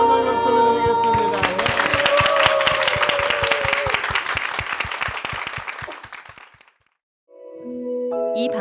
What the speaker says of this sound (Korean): 주님께 한번 박수를 드리겠습니다